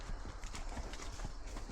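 Horse hooves scramble and thud up a steep, muddy trail, heard close and continuous with a rough, busy texture and no talking.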